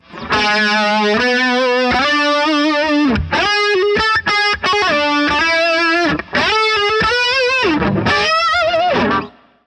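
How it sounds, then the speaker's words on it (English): Distorted electric guitar played on one string, with gliding slides and smooth legato runs, loud and up close with brief gaps between phrases. "he'll be on one string and he'll just do slides and legato"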